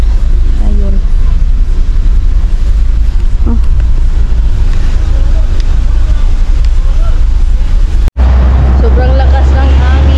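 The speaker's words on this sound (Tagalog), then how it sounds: "Sobrang lakas ng hangin." Strong wind buffeting the microphone in a loud, constant low roar in Pasay, Philippines, with faint traffic-like noise beneath and a brief cut near the end.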